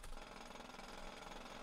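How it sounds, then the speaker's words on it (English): Steady, loud mechanical drilling in a video game hammers continuously with a dense, rattling buzz and no pauses, like a heavy jackhammer close by, flattening ground for a basement. "I'm gonna drill this part down to make it flat first."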